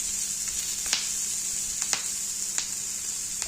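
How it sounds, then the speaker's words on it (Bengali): Chopped onion and green chillies fry in hot oil for an egg curry, giving a steady bright sizzle with a few soft clicks of stirring. "এবার দিয়ে দিচ্ছি কেটে রাখা পেঁয়াজ কুচি এবং 5টা কাঁচামরিচ কুচি"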